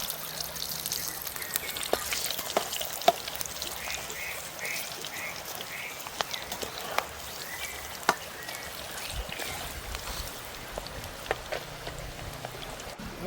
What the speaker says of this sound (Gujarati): તો આપણે આમાં શાકભાજી ફ્રાય કરી લેવું। બટાકા,